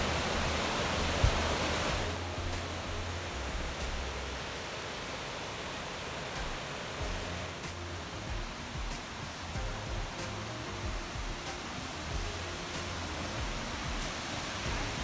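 Rushing water roars steadily at the top of a New Zealand waterfall on the Purakaunui River, a broad, even hiss, continuous and moderately loud, with no voices present.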